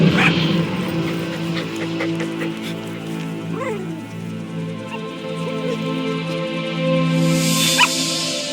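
A puppy in Metal Gear Solid V yips, barks and whimpers in short bursts over a steady game soundscape, close and fairly loud, with no talking.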